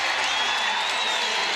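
A packed arena crowd at an NCAA women's basketball game between Mississippi State and Tennessee roars in a steady, loud wash of cheering and clapping with no break.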